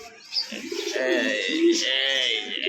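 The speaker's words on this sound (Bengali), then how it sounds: "একবারে জোড়া বাচ্চা সহ এক জোড়া গররা কবুতর পাবে।" Gola pigeons coo in low, throaty rolling calls, close by and steady, with soft chirps and faint voices in the background.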